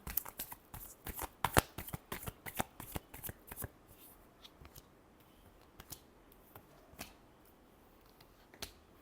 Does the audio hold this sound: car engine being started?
no